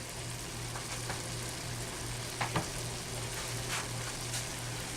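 Ground beef fries in a pan while burritos are being made, giving a steady soft sizzle with a faint hum beneath and a few brief clinks near the middle.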